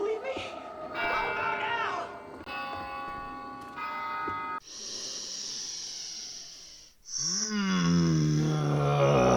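A church bell rings in Left 4 Dead 2, sustained tolling strikes with ringing overtones layered over game noise, followed by a burst of a character's shouting voice near the end.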